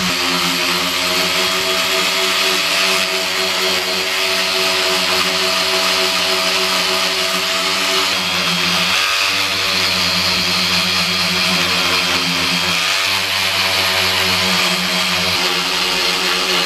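Power sander working hardened JB Weld filler on motorcycle bodywork during an FZR restoration: a loud, continuous motor drone with a rough abrasive hiss, its pitch dipping briefly a couple of times under load, with no talking.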